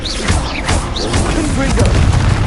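A Confringo blasting spell goes off in Hogwarts Legacy with booming, crunchy bursts layered over swooping magical chirps, loud and close, with game effects continuous throughout.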